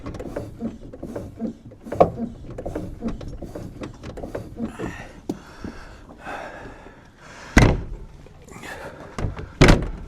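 A car door on a barn-find Ford Zephyr Mk3 is shut several times with sharp slams and thunks, amid rustling, clanks and occasional voices nearby.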